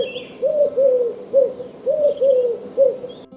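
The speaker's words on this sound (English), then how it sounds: "Their call, which is a 3-note repetitive cooing, is universal across their entire range." Collared dove giving its repetitive three-note cooing call twice in a row, soft and mid-distance, while a thin high trill from another bird runs faintly behind it.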